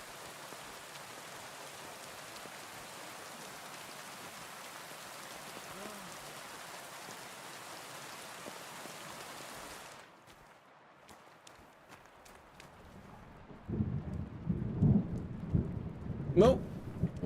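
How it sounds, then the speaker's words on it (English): Steady rain hisses in a medieval open-world game, Kingdom Come Deliverance 2, then gives way to quieter dripping and a low, rumbling roll of thunder that swells near the end. "It'd be better if it wasn't raining."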